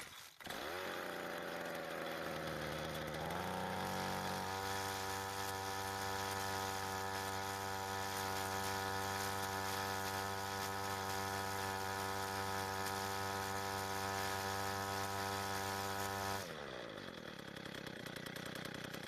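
Ryobi string trimmer with a fault, its small two-stroke engine catching on choke, then settling into a steady buzzing run for about twelve seconds before it cuts out, heard close up.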